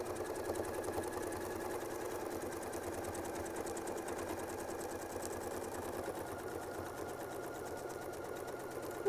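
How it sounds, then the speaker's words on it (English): Domestic sewing machine running steadily as it stitches quilt pieces cut with a Westalee Yin and Yang circle template, a close, even mechanical whir that goes on throughout without pause. "So we'll go ahead and we'll sew that in."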